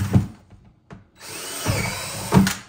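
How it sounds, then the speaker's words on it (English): A power drill bores a few holes along the top edge of a plastic trash can in a couple of short bursts, close and fairly loud with a rising whir. "actually just drill a few holes right along the top edge"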